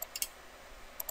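Computer mouse clicks while working in SketchUp: a quick pair of sharp clicks near the start, another burst just after, and a second double click at the end, close and faint over quiet room tone.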